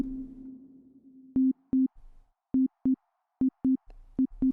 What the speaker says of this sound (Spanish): Ahí estoy cortando la reverberación.